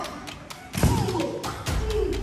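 Pillows thumping against people in a rowdy pillow fight, a few soft dull thuds and taps close by, mixed with faint voices and movement in the room.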